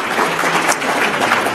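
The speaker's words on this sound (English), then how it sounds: "could I get another round of applause for all the poets laureate?" An audience at a poetry gathering applauds the poets laureate of Virginia, a thick, even wash of clapping from many hands that continues steadily throughout.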